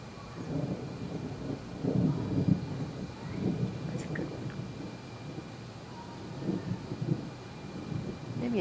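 Low thunder from an incoming summer storm rolls and rumbles continuously, fairly distant and soft, with wind noise on the microphone and no talking.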